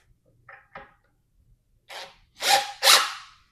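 A power drill drives screws into wood during a custom fireplace build, with two short faint whirs followed by three louder, longer bursts of the motor spinning up and biting in, close to the mic.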